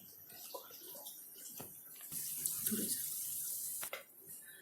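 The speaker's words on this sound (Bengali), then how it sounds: "তো এবার আমরা একটু ওয়াটার দিয়ে দিচ্ছি" Water is poured into a pan of spiced potatoes being cooked for Bengali-style sada aloo dum, a steady splashing pour that swells for a couple of seconds in the middle, close and fairly loud, with no talk.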